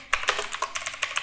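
Fingers type code on a computer keyboard in a quick, close burst of about eight bright keystrokes with no speech.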